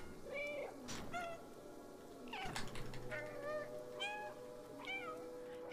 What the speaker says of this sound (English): Press left alt to meow.